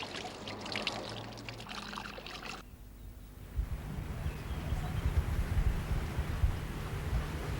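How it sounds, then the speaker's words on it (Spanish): Rushing water pours steadily after an abrupt cut from another scene, with a broad continuous wash of noise that fits monsoon floodwater in India. "las riadas arrasan."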